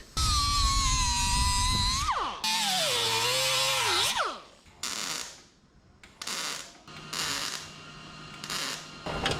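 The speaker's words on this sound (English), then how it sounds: "A little more grinding, she'll be ready to weld." Metal grinding on the cowl of a 1967 Toyota Stout during a body swap, heard as a loud, steady whine that dips in pitch under load, then shorter, quieter bursts of grinding.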